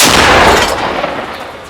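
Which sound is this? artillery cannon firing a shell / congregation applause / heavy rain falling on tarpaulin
artillery cannon firing a shell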